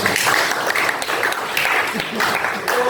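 Students in a classroom break into steady, dense applause that stays loud and continuous throughout, with voices faintly underneath.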